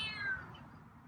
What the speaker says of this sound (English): I got all the meows